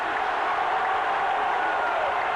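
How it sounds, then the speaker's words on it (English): Football crowd at Tiger Stadium in Baton Rouge during a 1985 LSU versus Florida game, a steady broad roar of cheering fans filling the air without a break. "the crowd making a lot of noise at Tiger Stadium"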